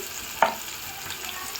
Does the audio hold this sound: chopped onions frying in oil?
yes